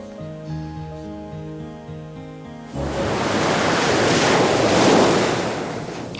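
Music plays at first, then loud ocean waves take over with a broad, roaring surge of surf that swells and rolls on to the end.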